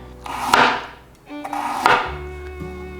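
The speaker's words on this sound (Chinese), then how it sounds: "把红萝卜的头去掉，这里切小段" A knife slicing through a peeled carrot into short lengths on a cutting board: two crisp chops, each followed by a short ringing knock from the board. The sounds are close and clear, with quiet gaps between them.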